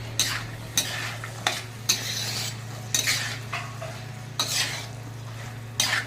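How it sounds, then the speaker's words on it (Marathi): Chickpea curry with coriander is stirred in a pan, with a spoon scraping and knocking against the metal in about eight distinct strokes over a low steady hum and a faint sizzle. "कोथिंबीर घालू मस्त हलवून घेऊ"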